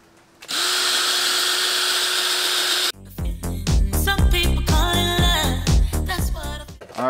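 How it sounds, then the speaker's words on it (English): A power drill fitted with an 800 grit sanding pad whirs at a steady high pitch while sanding a yellowed Lexus GX470 headlight, then stops abruptly and gives way to a burst of clattering, scraping handling noises. "I switched over to the 800 grit pad. I'm just gonna go and do three more passes with that."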